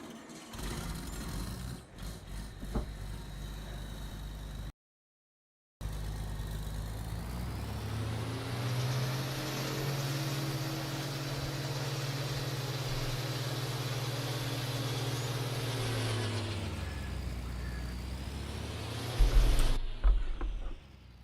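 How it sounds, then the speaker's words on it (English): Engine of a corn picker running during corn harvest, a steady mechanical drone with a sustained hum that rises and later dips, heard alone without talk. "That's the engine sound, and here's the fan sound."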